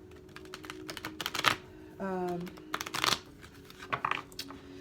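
Tarot cards are shuffled and handled up close in a few short riffling and clicking bursts, quiet and crisp, with a brief spoken voice in between.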